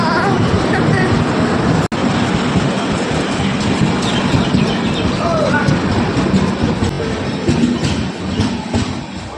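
A passenger train rolls past a station platform close by, giving a loud, continuous rumble and rattling clatter of wheels and carriages for several seconds, with voices faintly underneath.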